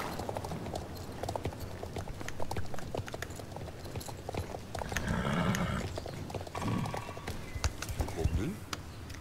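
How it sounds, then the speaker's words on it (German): In the video game Star Stable Online, horse hooves clip-clop in a rapid, steady rhythm with a short whinny mixed in, while a person talks over the gameplay. "es ist ein sehr wuschiges Pferd"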